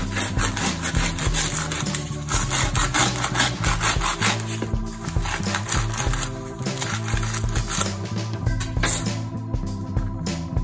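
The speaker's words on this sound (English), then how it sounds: "The crust really sounds good. So let's cut them in half." Steady rasping, crackly sawing of a knife through crisp baguette crust, continuous and close, with fine crunchy texture throughout.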